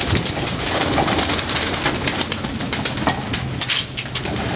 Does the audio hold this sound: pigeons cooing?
yes